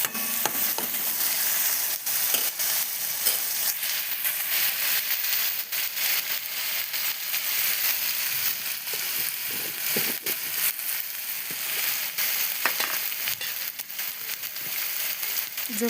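Masala frying in oil for egg curry, with red chili powder, gives a dense, continuous close sizzle and crackle mixed with scraping and stirring, steady and loud throughout without talk.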